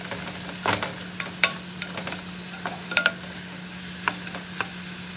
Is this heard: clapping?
no